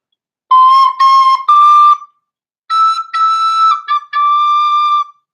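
Tin whistle played with the thumb hole pinched, a clear high piping phrase of sustained notes with brief gaps and a short pause midway, close and alone.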